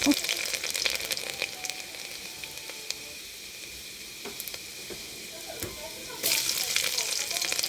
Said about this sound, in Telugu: చూడండి, పోపు వేసుకుంటున్నాను ఇప్పుడు.